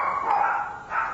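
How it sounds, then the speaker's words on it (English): Dogs barking in a short burst of barks at moderate distance, with no talk over them. "I just want my dogs to be quiet"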